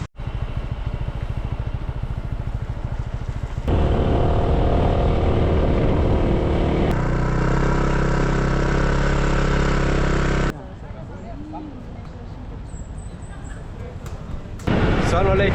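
A scooter engine drones steadily during a hot ride along a coastal road in Phuket, mixed with loud rushing wind noise that swells in the middle, then drops to a quieter hum before surging again, with voices talking over it.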